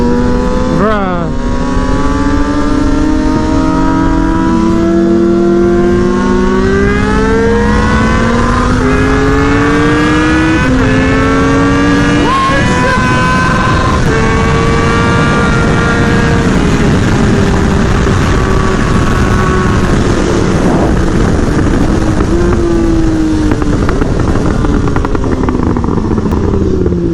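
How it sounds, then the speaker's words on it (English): A 2018 Kawasaki Ninja ZX6R motorcycle pulling hard alongside a Lamborghini Huracan, loud engine wail climbing through repeated gear changes with rising and dropping pitch, sustained and close throughout, wind noise underneath. "I have a little clip of me doing a little pull with a Lamborghini Huracan"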